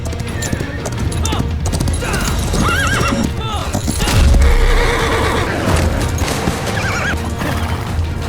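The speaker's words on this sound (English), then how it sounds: "To prove his innocence, Xin Qiji mounted his horse and rode hard to catch up with Yiduan." Horses whinny repeatedly over loud, rapid galloping hoofbeats, with a dense, busy background throughout.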